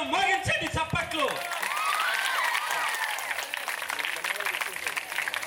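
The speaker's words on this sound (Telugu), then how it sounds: "అరే పిల్లలు మోగించండి చప్పట్లు." Children clap at a retirement event, a sustained crowd-wide burst of applause that starts under a voice and then carries on steadily on its own.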